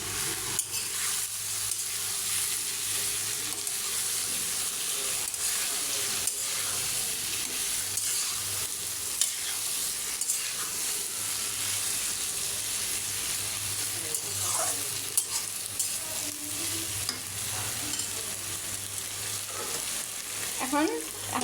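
Pumpkin frying and being stirred in a pan for a sweet pumpkin bhaji, a steady hiss of sizzling under scraping spatula strokes for a long stretch, with no talk.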